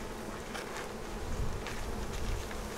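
Thousands of honeybees in an open hive give off a steady, dense buzzing drone, close and continuous with no voices.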